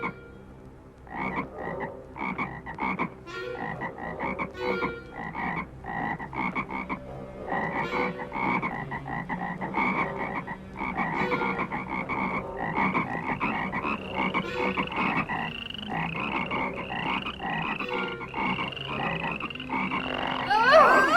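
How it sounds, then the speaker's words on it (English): Many frogs croak in a dense, overlapping chorus, loud and continuous with rhythmic pulsing calls layered on top of one another and no speech. "we are treated to an audio montage of frogs everywhere."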